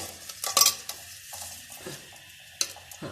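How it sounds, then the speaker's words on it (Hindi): Onion sautéing in a pan for sarson ka saag sizzles faintly while a utensil scrapes and clinks against the pan in a few short, quiet stirring strokes. "मैं इसमें डाल रही हूँ और इसको डार्क ब्राउन होने तक मैं इसको सौटे करूँगी"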